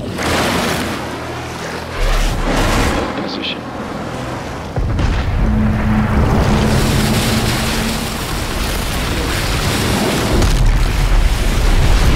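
A submarine surfaces from the ocean in Call of Duty: Modern Warfare 3 with a loud, continuous roar of rushing water and churning surf, deep rumbling booms underneath, and voices heard over the din.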